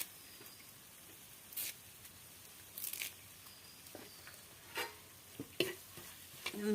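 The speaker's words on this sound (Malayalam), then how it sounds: "അപ്പോൾ വേപ്പില ഇടാട്ടാ." Curry leaves frying in a pan for a beef curry, with a soft sizzle and occasional scraping stirs, quiet and close with no talk.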